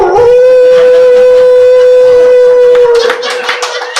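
A person imitating a dog's howl with one long, loud, sustained wail, then trailing off into breathy noise.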